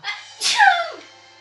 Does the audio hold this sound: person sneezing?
yes